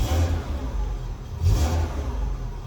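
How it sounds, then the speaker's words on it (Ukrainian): A Renault Megane 2 engine runs just after starting, a low rumbling idle with a couple of brief revving swells, heard close and without talking. "машина у нас завелась і тут в принципі нічого не пшикає"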